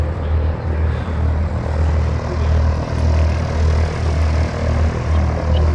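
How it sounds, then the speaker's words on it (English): A plane takes off nearby at an outdoor car show beside an airfield, its steady propeller and engine roar loud and continuous throughout, with a strong low drone and no talk over it. "There's a plane taking off over there, so it's a bit loud."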